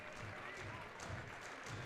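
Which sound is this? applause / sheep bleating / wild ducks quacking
applause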